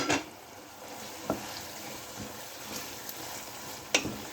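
Tomatoes are stirred into baingan bharta in a pan over a steady, quiet sizzle, with a few sharp scrapes of the spoon against the pan.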